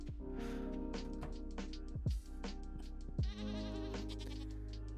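Goat bleating in the farming video game Stardew Valley, several wavering bleats over steady looping game music, clear and close.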